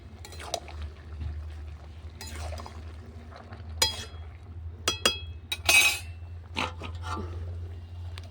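A metal lid clinks down onto a pot of simmering potatoes, eggplant and spinach, with a few sharp clanks and rattles standing out over a low steady bubbling hum.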